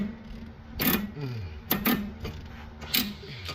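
A wrench works a rusted 12 mm bolt on a 2010 Subaru Forester's steering spindle, giving three separate scraping, ratcheting strains close by against a low background hum.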